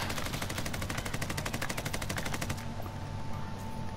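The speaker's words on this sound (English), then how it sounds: "Oh my god, I'm getting shot." Rapid automatic gunfire in the video game Warzone, a long even burst of loud, close shots in quick succession that stops abruptly, leaving a quieter game background with faint scattered sounds.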